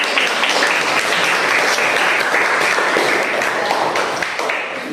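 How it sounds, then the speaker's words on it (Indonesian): A group of students applauds after presenting their group's discussion results in a classroom, with dense, steady clapping from many hands throughout. "maka kita berikan aplaus untuk kelompok"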